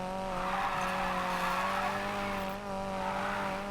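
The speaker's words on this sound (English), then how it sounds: "Sounds like an angry four-banger." A strained, buzzing four-cylinder engine of a John Cooper Works MINI Countryman in Need for Speed Payback drones steadily at high revs, with a tire squeal edge, continuous and loud throughout.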